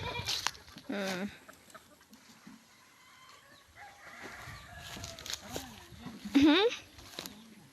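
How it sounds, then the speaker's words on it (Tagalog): Chickens cluck and squawk close by in an outdoor yard, with a few sharp rising calls standing out, while people talk intermittently. "Daw, manok ni Mahal"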